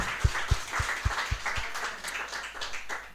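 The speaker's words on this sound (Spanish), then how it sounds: "¿Por qué no le da un aplauso al Señor?" A church congregation claps with a rough, rhythmic beat during a Sunday service, the applause filling a large room and fading toward the end.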